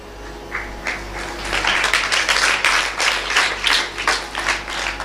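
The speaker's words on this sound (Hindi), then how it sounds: "ताली वाली मत बजाओ ना, ऐसी सुनो खाली।" An audience at a spiritual discourse breaks into clapping that starts sparse and quickly builds into steady, dense applause, moderately loud and sustained throughout.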